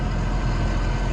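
A Blue Power T 210 tractor draws near, its engine a steady, heavy low rumble that stays loud and even throughout the short moment, with no voices.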